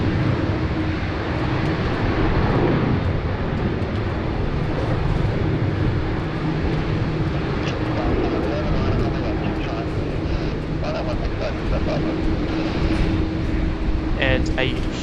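An airliner taxis out from the International 1 apron toward taxiway Alpha at Sydney Airport, making a continuous, fairly loud engine hum and rumble, with voices talking over it.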